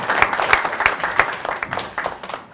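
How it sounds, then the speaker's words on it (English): A debate audience claps in a short burst during a discussion of teachers and technology, quick overlapping claps close by that fade toward the end, with no voices over them. "Another round of applause for that one."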